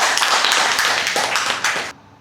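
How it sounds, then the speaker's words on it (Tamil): Audience applause at a Tamil-language debate contest on whether national development depends on agriculture or industry, a dense burst of hand clapping from a gathered crowd that stays steady and then drops away abruptly near the end. "உற்சாகமான கரகோஷம் எல்லோருமாக சேர்ந்து"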